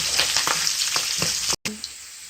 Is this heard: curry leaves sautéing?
yes